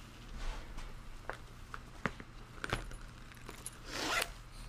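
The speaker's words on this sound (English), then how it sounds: "you can tell the zipper's getting caught in my block" A zipper on fabric is drawn along and snags on quilt blocks, giving several sharp zipping scrapes and clicks at uneven intervals. One longer, louder pull comes near the end, in a quiet room.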